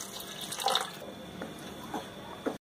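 Water is poured into a pan of spicy chicken gravy, a brief soft splashing and trickling, faint and close, followed by a few small drips.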